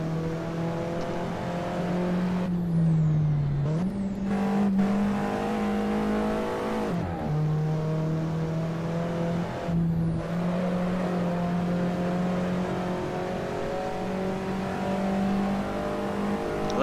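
Alfa Romeo 4C engine in a racing video game, revving hard and climbing through the gears with a steady rising drone and brief dips at each shift, loud and continuous with no talk over it.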